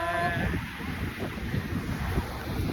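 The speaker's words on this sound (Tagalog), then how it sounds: "Hangin." Steady wind gusting across an open beach, broad rushing noise with low rumble from the microphone being buffeted, continuous and fairly loud throughout, with faint voices in the background.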